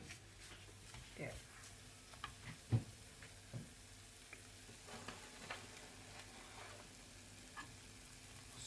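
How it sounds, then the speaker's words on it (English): Upma being stirred in a pan with a long spoon: faint scraping and soft knocks come at irregular moments over a quiet sizzling hiss, with one sharper clack near the middle. "I'm going to use a longer spoon to stir it."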